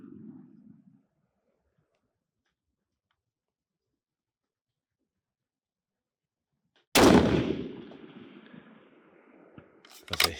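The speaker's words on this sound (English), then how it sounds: "So let's go ahead and put 2 more shots on this." A rifle fired at an outdoor shooting range on a hazy day, a loud sharp report after a long stretch of silence, followed by a decaying echo and a second quick blast at the very end.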